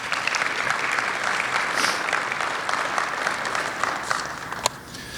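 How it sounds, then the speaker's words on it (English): A convention center audience gives a sustained round of applause honoring the staff at a Tinley Park business breakfast, dense steady clapping from a large crowd with no talk over it. "could I please get a round of applause for all the great staff here at the Convention Center?"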